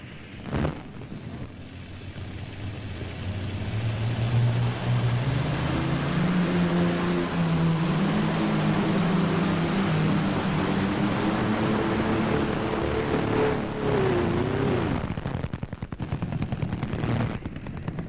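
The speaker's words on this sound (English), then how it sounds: "he runs 2 Allison aircraft engines. Both of them are fuel injected." A P-38 Lightning tractor-pulling vehicle powered by two fuel-injected Allison aircraft engines at the 1996 National Farm Machinery Show makes a loud, sustained roar whose pitch climbs steadily through the pull, then cuts off near the end.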